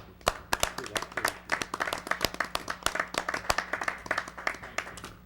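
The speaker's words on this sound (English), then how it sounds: "a round of applause to these guys" A small group claps for city employees at a city council meeting, a brisk, uneven patter of close hand claps that carries steadily for several seconds.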